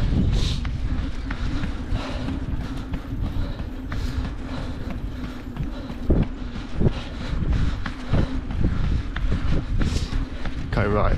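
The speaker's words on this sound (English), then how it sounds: "but it still seems pretty windy in here" Wind buffets the microphone on an outdoor cycle path during a ride, a continuous rough roar with gusty bursts and thumps, with faint talking mixed in.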